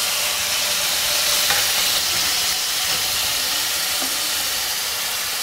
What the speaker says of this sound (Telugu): ఇలా వేయించుకో, కొంచెం వేగనివ్వాలి వంకాయ మగ్గే వరకు